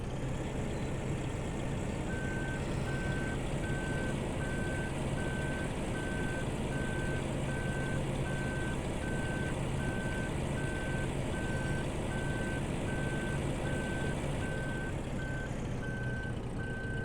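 Steady electronic reversing beeps from a truck in a farming video game, evenly spaced and continuous over a loud, constant engine drone with no talking.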